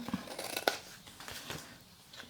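Scissors snip paper for a long folded paper box, a few quick close cuts in a short burst, then a softer rustle as the blades slide through.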